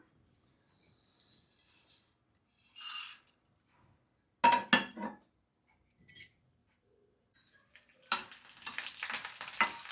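Tempering spices, including dried red chillies, sputter in hot oil for a dosa-batter snack, with short bursts of crackling sizzle and a few light clinks separated by quiet gaps.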